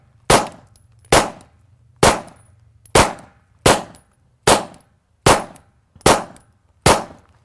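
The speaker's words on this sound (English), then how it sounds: "10 shots fired" Ten sharp pistol or rifle gunshots ring out at a junior shooting-training camp, fired at a steady pace about three quarters of a second apart, each a loud crack with a quick decay and quiet between shots.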